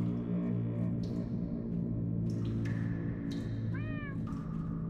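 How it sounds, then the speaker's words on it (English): Cats meow in the Minecraft Story Mode video game, a few short, rising calls near the end over a steady bed of game music and ambience. "That almost sounds like... cats?"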